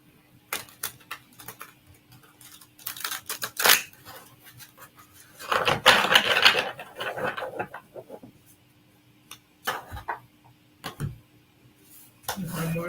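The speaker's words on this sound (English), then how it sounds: "2 more shuffles." Oracle cards from a Beloved Dead deck shuffled by hand during a reading, soft papery riffles and taps in irregular bursts, with one longer swishing shuffle in the middle.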